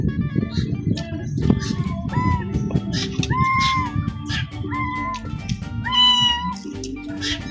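Several cats meow repeatedly at close range, their rising and falling cries overlapping in a busy outdoor setting on a Northern Samar island, with a person talking beneath them.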